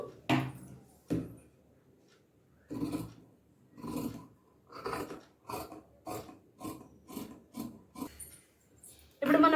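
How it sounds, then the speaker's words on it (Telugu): Scissors cut through blouse fabric for the back piece in a series of short, separate crisp snips and rasps, close and moderately loud, spaced with quiet pauses and no talk. "ఇప్పుడు మనము బ్లౌజ్ బ్యాక్ సైడ్ కట్ చేసేసుకుందాము"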